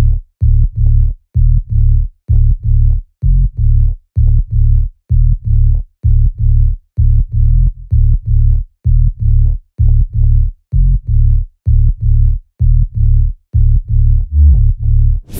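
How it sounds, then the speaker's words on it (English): Bass patch built in the Serum synth for a Latin tech house track, a loud, deep, distorted bass playing a steady rhythmic pattern of short repeated notes with brief gaps, continuous for the whole passage with nothing else heard. "This is the serum patch for the bass that I made, and it sounds like this."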